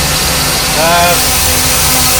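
A 1973 Corvette Stingray with a manual transmission idles steadily at close range, a low continuous engine rumble with a slightly fluctuating idle and a faint higher whine partway through.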